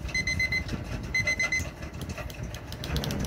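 A Petron brake-disc-shaped electronic alarm clock beeps in short repeated bursts of high tones over a low, rumbling background hum.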